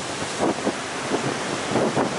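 Big ocean waves breaking on a beach at Portstewart, Northern Ireland, with a steady wash of surf and strong wind buffeting the microphone, swelling in a few rolling surges.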